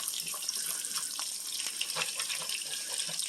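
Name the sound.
hot bacon grease splashed over frying egg on stovetop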